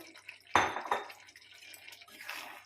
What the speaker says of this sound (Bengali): এবার এর মধ্যে আমি দিয়ে দেব যে আলুগুলো আমি সেদ্ধ করে রেখেছিলাম, সেই ছোট আলুগুলো